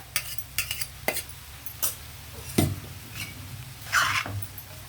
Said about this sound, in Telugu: నెమ్మదిగానే కలపాలి రైస్ ముక్క విరిగిపోకుండా